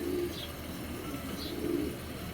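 Male racing pigeons coo nearby in two low, rolling bursts, one at the start and one near the middle, over a faint background hum.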